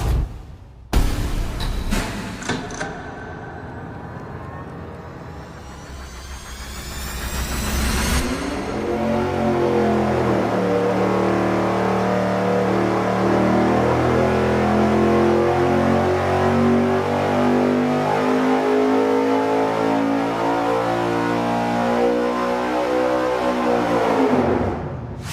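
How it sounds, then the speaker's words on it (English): An engine on a dynamometer fitted with a 90-millimeter throttle body gives a few sharp revs, then pulls through a long, loud, sustained full-throttle run before cutting off at the end. "We're about to run this with the 90-millimeter throttle body"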